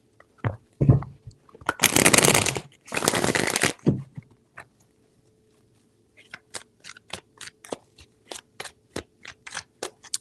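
A deck of cards being shuffled during a tarot reading: three bursts of riffling, two long dense ones followed by a run of crisp, evenly spaced card snaps, close and clear with no talk over them.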